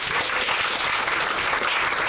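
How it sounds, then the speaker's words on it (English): Brief burst of audience applause for a live music company's presentation, dense and steady clapping filling the whole moment without any speech. "Give a round of applause."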